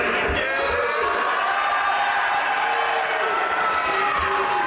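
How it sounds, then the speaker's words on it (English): A New York crowd at a boxing press conference for Ryan Garcia's fight cheers and shouts in a dense, continuous roar of voices. "Everybody, seems like here in New York, is here to cheer Ryan Garcia."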